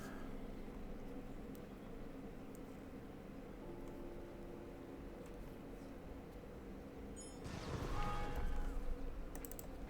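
Computer keyboard clicks while playing Westeros: Total War, soft key taps beneath low game ambience, followed by a louder rushing burst of game sound near the end; no talk.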